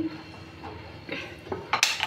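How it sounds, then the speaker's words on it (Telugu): A metal pan set down on a home kitchen stove while making mutton biryani gives a few close clanks and scrapes, the last knocks the loudest, over quiet room noise. "ఇప్పుడైతే ప్యాన్ గిన్నె పెట్టేసి"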